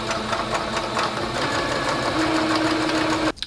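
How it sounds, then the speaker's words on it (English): Sewing machine stitching a skirt onto elastic, a loud, close, rapid mechanical whir and needle chatter running steadily before stopping abruptly near the end. "Sewing this to the elastic."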